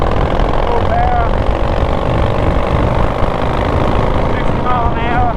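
An engine at full throttle drones loud and close with a steady, dense roar and a faint rising whine, running without pause from start to end.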